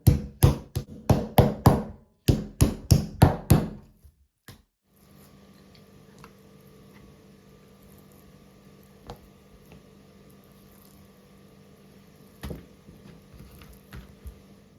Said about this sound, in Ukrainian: Беремо молоток і відбиваємо нашу вирізку.